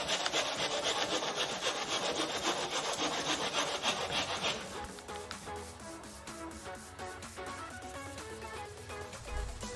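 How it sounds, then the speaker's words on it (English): 150-grit sandpaper rubbed along the edges of Noel & Marquet crown moulding, a dense, steady scratchy rasp that fills the first half and then fades under a tonal background. "You can sand the edges with a 150 grit sandpaper or finer"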